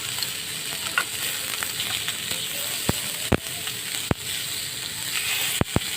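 Pork liver frying in a pan, salted, as a steady broad sizzle with a few sharp pops and spatters scattered through, close and fairly loud, with no talk.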